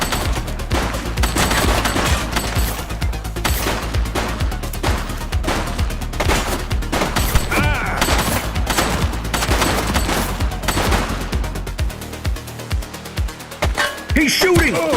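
Rapid automatic gunfire in a police video game, dense bursts of shots continuing almost nonstop at close range, with voices speaking over the shooting.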